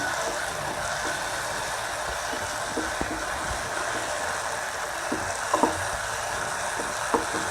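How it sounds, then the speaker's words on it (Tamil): Tomatoes and curry leaves sauté in hot oil for a chana masala gravy, giving a steady soft sizzle and crackle with occasional small stirring clicks, no voices. "இந்த தக்காளியெல்லாம் வதங்கி வரும்போது அதிலிருந்து எண்ணெயெல்லாம் பிரிஞ்சு வரும். அது வரைக்கும் வதக்கிட்டு கருவேப்பிலை ஆட் பண்ணிக்கலாம்."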